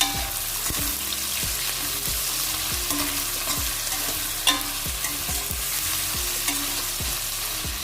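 Chicken and okra fried in oil get stirred with regular scraping strokes about twice a second, each stroke a distinct knock over a constant loud sizzle, close up with no voices.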